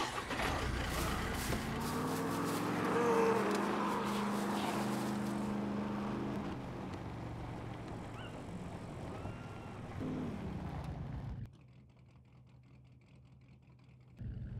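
A car engine in the SCUM survival game hums and whirs steadily at moderate volume, rising slightly before dropping away abruptly near the end.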